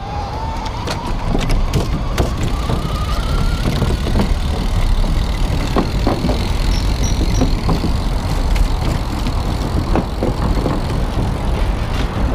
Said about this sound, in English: A little bit of rattling going on